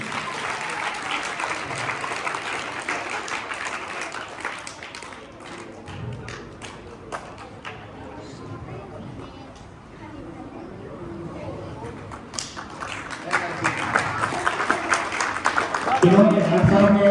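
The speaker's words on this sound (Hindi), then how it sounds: "जोरदार तालियां होनी चाहिए।" Loud audience applause at a school safety and awareness event on CPR, snake bites and bee stings, a dense stretch of clapping that dips in the middle and swells again toward the end, with chatter mixed in.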